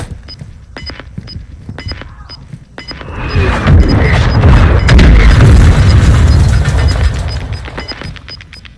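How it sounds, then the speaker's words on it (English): A mortar strike in a video game lands with a loud, deep explosion that swells and rumbles for several seconds with debris-like crackle. Faint regular clicks and beeps come before the blast. "Hostile mortar strike near your position."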